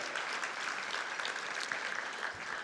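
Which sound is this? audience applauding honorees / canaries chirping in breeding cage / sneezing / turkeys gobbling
audience applauding honorees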